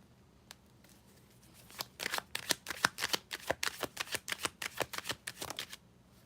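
Tarot cards riffle and shuffle, a quick run of crisp slaps and flicks that starts after a quiet pause and continues in a steady rhythm, close and fairly loud, with no talking.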